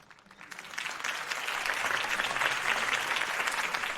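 Crowd applause in the Batman: The Telltale Series video game, following Harvey Dent's campaign speech. A dense, steady wash of clapping swells in the first second, then holds loud and even to the end with no voices over it.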